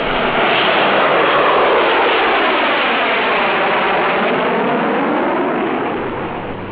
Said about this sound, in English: The best known use of the gas turbine is jet.